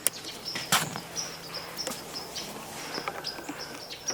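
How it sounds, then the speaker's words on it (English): Evening birds calling outdoors at dusk, with repeated short high chirps and whistles scattered across the scene, fairly faint and distant over a quiet background, with a couple of louder nearby clicks or rustles. "There's a lot of evening birds out calling right now."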